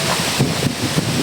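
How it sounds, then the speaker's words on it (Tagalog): Strong wind blows hard across the microphone in a loud, continuous roar, gusting unevenly near a stormy seaside. "Yan, malakas yung hangin dito."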